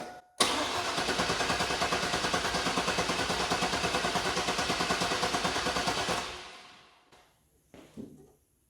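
A Chevy 1500 pickup truck engine starts with a sudden loud catch, then churns in rapid, even pulses for about six seconds before fading out, followed by a couple of faint clunks.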